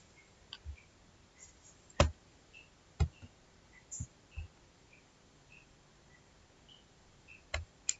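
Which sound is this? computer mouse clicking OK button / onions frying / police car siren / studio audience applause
computer mouse clicking OK button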